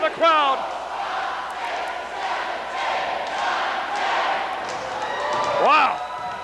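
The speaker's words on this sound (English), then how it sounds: "listen to the crowd." A wrestling arena crowd roars and cheers throughout, a dense sustained wall of voices swelling in waves, with sharp shouts and whistles at the start and end.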